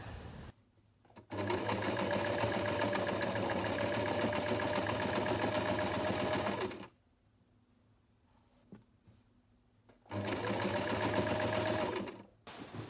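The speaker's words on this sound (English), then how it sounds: "Now I'm going to be finishing my sewing project from yesterday." A sewing machine stitches a small string pouch in two long runs, a steady whirring buzz close by, with a quiet pause between the bursts.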